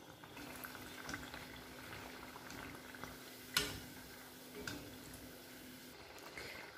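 Potato bread pakoras with a thin gram-flour batter frying in oil in a kadhai, a steady soft bubbling sizzle throughout with a few brief clinks of a utensil turning them.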